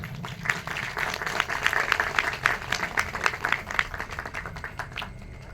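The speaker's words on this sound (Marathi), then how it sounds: "टाळ्या वाजवा सगळे जोरदार." Enthusiastic audience applause fills a Marathi poetry recitation event, a dense, steady burst of many hands clapping for several seconds, fairly loud and without speech.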